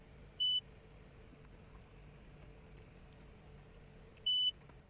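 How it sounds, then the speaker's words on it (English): A multimeter gives its continuity beep while testing a soldered connection on model railway DCC bus wiring. Two short, clear electronic beeps sound about four seconds apart over a quiet room. "Once my soldering had passed the beep test"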